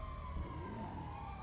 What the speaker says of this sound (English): sirens from the prison